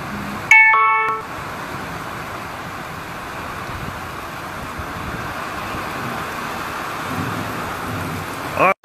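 A severe thunderstorm in South East Queensland brings a loud, steady roar of heavy rain throughout, with a sharp crack of thunder near the start.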